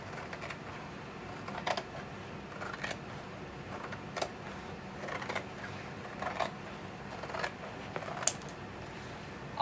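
Scissors cut craft transfers with soft, spaced snips and light paper rustle, close and faint against a quiet room background.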